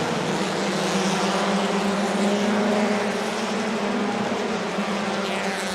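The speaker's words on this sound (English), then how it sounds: "You can hear the engine revving." Race car engines roar together at the start of a Thailand Super Series race in June 2019, a dense, steady drone with a low harmonic hum that holds at constant loudness throughout.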